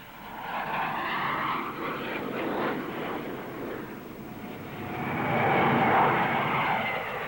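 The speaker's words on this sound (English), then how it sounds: "Another new development is the DH-125, a small transport aircraft with twin rear-mounted jet engines." Jet roar of a DH-125 small transport aircraft with twin rear-mounted jet engines at a Farnborough air show, a broad rushing whine that swells and fades then builds louder again as it passes at a distance.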